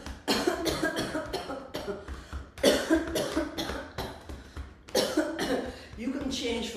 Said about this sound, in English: On the slow exhalation, start coughing and tapping everything you can reach.